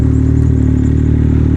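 A Yamaha Sidewinder snowmobile with a 270HP reflash on pump fuel runs nearby, its exhaust giving a loud, steady, throbbing engine note with a pulsing low rumble.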